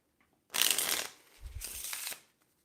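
Two quick bursts of cards riffle-shuffled, a crisp fluttering rattle each lasting about half a second, close and clear with no talking.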